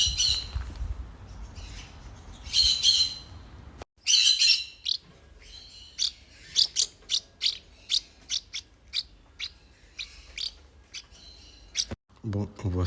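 Crows calling: sharp, scattered squawks and chirps, some near and some farther off, repeated in short bursts with brief gaps of quiet.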